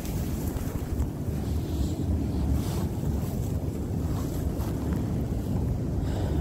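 Violent wind on Remembrance Day roars continuously across the microphone as a deep, rumbling buffeting with shifting gusts, loud and close, with no voices.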